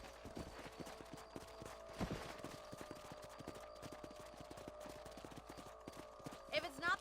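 Horse hooves galloping in Red Dead Redemption, set in New Austin, a fast even clip-clop rhythm running steadily throughout with a brief louder thump near the start.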